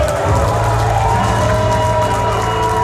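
A capacity crowd at a wrestling event in Tifton, Georgia, roars and cheers for wrestler Kevin Cantrell, a loud, dense, steady wall of voices with whoops throughout.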